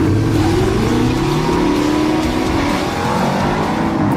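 A Dodge Challenger T/A muscle car with a six-pack triple-carburetor setup, its engine roaring and revving loudly and continuously with a rough, throaty rumble for several seconds.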